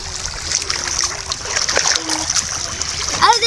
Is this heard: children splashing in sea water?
yes